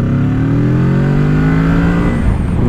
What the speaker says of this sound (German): Wollen wir mal auch eine kleine Beschleunigung hier machen. Mal sehen, wie sich das anfühlt. So von 30. Zweiter Gang.